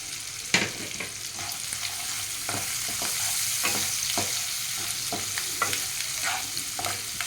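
Dry chili powder, Kashmiri chili and spices sizzle and fry in a pan while a utensil stirs them, with regular scraping strokes over a soft, continuous crackle, close and fairly quiet, no voices.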